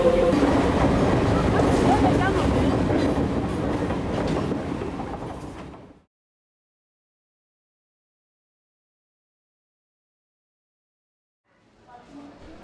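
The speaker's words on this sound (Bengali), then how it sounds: "বাসের স্টেশন থেকে যাচ্ছে ট্রেন।" A train rolls past a bus station en route to Govindghat in the Garhwal Himalayas, loud and broadband with rumble and clatter for about six seconds before cutting to silence, then faintly resuming near the end.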